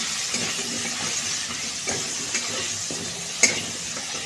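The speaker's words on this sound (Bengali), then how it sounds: "আমি আলুটা কষিয়ে নেব ভালো করে" Salted potatoes fry in a pan with a steady close sizzle, punctuated by several scraping stirs of a spatula and a sharp metallic clink near the end.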